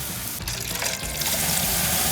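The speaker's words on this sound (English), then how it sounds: "And we're going to add 4 cups of water." Water pours steadily into a smoker's dripping pan, a continuous close splashing trickle that grows slightly fuller toward the end.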